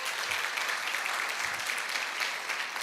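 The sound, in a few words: applause for the music team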